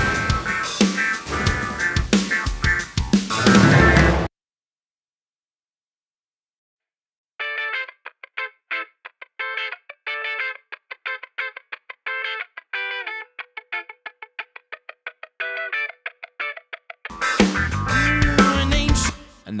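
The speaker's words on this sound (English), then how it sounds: "And solo the funk guitar coming up." A solo funk guitar plays choppy, rhythmic muted strums and short staccato stabs after a short silence. Fuller band music briefly frames the part at the start and end.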